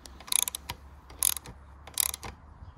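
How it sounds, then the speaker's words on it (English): Ratcheting clicks come in three short bursts as a wrench tightens the steering clamp bolt on a Kawasaki Z1 Super Six motorcycle, close and fairly quiet, with no talk. "so I tighten up the clamp bolt"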